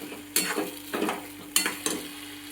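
Homemade black goat mutton curry stirred in a pan, a few scraping stir strokes over a steady close sizzle, with no voices.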